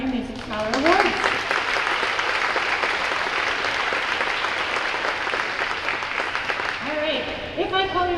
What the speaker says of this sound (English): we want to give those guys a round of applause